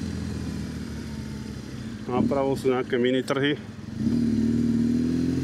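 A motorcycle being ridden through Senec past a small street market, its engine droning steadily with a rising tonal whine near the end, while someone talks over it in the middle.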